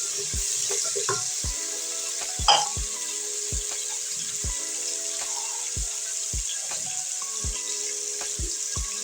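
A steady sizzle of tomatoes and onions frying, with sharp clicks and scrapes of a utensil against the pan.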